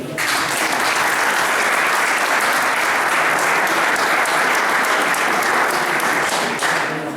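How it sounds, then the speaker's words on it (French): Loud, sustained applause from an audience at a cycling club awards evening, steady dense clapping filling the whole stretch and easing slightly at the end, with no talk over it. "donc ça s'appelle les applaudissements très très fort."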